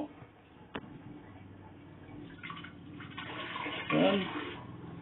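Handheld bidet shower spraying water in a bathroom with weak water pressure, a faint hiss of spray that swells near the end, with a sharp knock early on.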